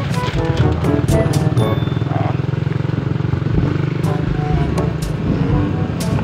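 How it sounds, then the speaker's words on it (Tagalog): A motorcycle engine runs close by with a steady low rumble. A few sharp knocks and clicks cut across it, and voices speak briefly beneath the engine noise. "Tingog dyan ang motor."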